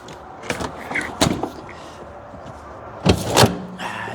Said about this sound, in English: Now we can move the seat back.